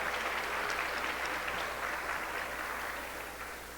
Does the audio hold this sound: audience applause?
yes